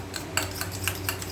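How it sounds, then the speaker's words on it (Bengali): Sour yogurt is whisked in a bowl, giving quick, light clinking strokes in an uneven rhythm, fairly quiet and close, over a faint kitchen hum. "আর এখানে টক দইটাকে ফাটিয়ে নিচ্ছি"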